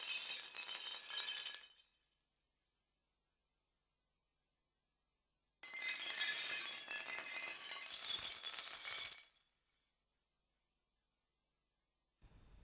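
A sampled MIDI instrument patch called Metal Avalanche gives two bright, crashing bursts of glassy, shattering metallic texture, each about two to four seconds long, separated by silence, with a brief onset of a third at the very end.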